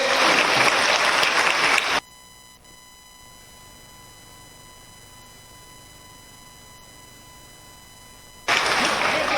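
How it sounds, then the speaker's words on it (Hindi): An audience at a political gathering in Bhopal claps loudly to welcome a state party president. Two dense bursts of applause are separated by a long, near-silent stretch that carries a faint steady tone. "तालियां बजा के उनका स्वागत कीजिए।"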